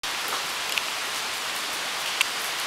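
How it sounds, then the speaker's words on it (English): Heavy rain falls steadily outdoors in a downpour, a constant dense hiss with no pauses, moderately loud, with occasional sharper drop hits standing out; no one speaks. "Raining cats and dogs."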